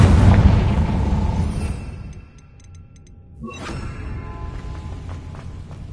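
Confringo fire spell in Hogwarts Legacy erupts as a loud, deep booming blast that fades into a brief lull before a second rumbling impact with whooshing debris, with no voices.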